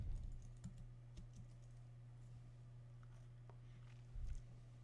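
Quiet, close typing on a computer keyboard: a few soft, irregular key taps over a low steady hum, with no talking.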